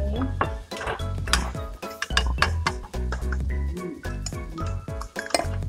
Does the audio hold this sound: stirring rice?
yes